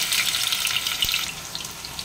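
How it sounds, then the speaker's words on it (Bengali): Small diced potatoes frying in oil with whole cumin and cardamom, a dense, steady sizzle heard up close and unbroken, with no voices. "সবার প্রথম আলুগুলো ভেজে নিই।"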